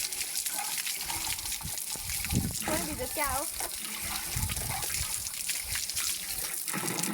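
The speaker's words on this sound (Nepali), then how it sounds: "पानी आउँछ।" Water runs from a tap in a steady splashing gush, fairly close, while someone talks briefly over it.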